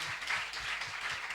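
Applause from a church congregation, a steady, fairly soft patter of many hands clapping without a break.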